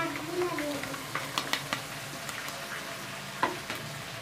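Ginger, garlic and green chili paste with tomatoes frying and being stirred in a pan, a soft steady sizzle with scattered clicks and scrapes of the spoon, fairly close and moderate in level.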